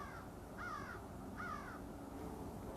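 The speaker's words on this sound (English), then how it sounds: "the birds at this time of the day. You can hear them in all directions." Two loud, harsh crow caws ring out from nearby in Lowestoft, spaced a little under a second apart, over a steady background hum and rumble.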